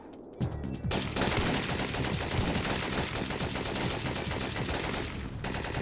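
Gunfire in the video game Syphon Filter 2, a dense, sustained burst of rapid shots that begins abruptly and runs almost unbroken for about five seconds, loud and close.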